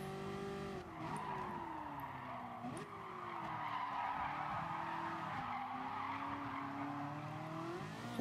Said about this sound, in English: that's a lot of tire screeching